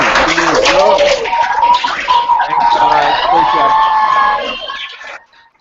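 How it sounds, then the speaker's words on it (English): Crowd cheering and applause fill the space at a live museum exhibition event, loud and continuous for several seconds before cutting off, with a voice speaking briefly over the noise. "Big round of applause."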